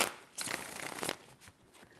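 A deck of tarot cards riffles in a quick burst of papery flutter, then a couple of softer taps and shuffles as the deck settles, close and otherwise quiet.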